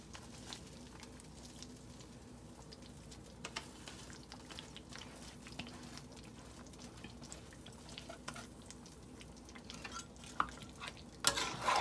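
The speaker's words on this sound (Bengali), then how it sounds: "ভালো করে নাড়বো, একদম লো আছে থাকবে মাংসটা।" Karahi gosht meat with fried onions being stirred in a pot over low heat, a faint, steady sizzle with soft scraping and occasional light clinks, no voices.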